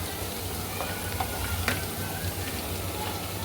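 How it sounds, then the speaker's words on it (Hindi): Steady hot-oil sizzle of spices tempering for dal crackles continuously, with a few brief spits and pops rising above the dense frying hiss. "अभी पहले तड़का लगा लूँ दाल को"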